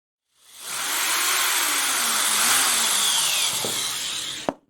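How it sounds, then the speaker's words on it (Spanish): A Bosch drill set to torque 1 and speed 1 spins up and drives a small screw into wood, a steady close whir lasting about four seconds and ending in an abrupt stop. "lo introduciré con el taladro Bosch con el torque en número 1 y la velocidad también en número"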